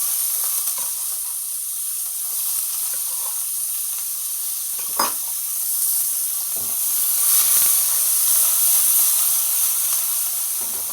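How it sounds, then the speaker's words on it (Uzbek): Chopped onions frying in a pan until golden, a steady close hiss and sizzle with occasional stirring scrapes, no talk. "Tillorangi rangi bo'lgungacha qovurib olamiz piyozni."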